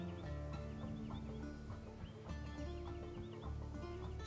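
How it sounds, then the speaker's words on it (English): Chickens clucking in a Central Texas garden, several birds giving busy, overlapping clucks and calls at close range with a constant background, no talking. "she got chickens"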